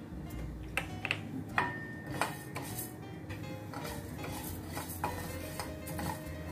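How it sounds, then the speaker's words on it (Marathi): A spoon stirs coriander seeds, fennel, cumin and black peppercorns in a dry pan for kachori masala, giving close, irregular scraping and light metallic clinks over a low steady background. "अशा पद्धतीने आपण हा मसाला भाजून घेतो आहोत"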